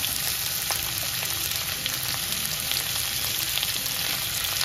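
Tomato frying in hot oil for a paneer mushroom masala, a steady dense sizzle with faint crackles and pops running close and continuous throughout, no voices.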